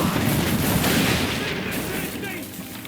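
Ship guns fire a rolling volley in the Assassin's Creed III video game, with dense overlapping booms and crackling blasts that fade into rumble, and a voice speaks over them.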